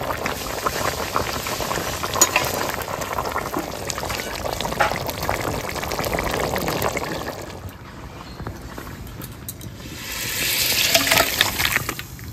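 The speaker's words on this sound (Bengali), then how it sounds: "ঝোল ফুটে গেছে" Fish curry gravy with rohu fish bubbles at a full boil in a pot, a dense, continuous crackle of popping bubbles heard up close, swelling and easing in intensity, with no voices.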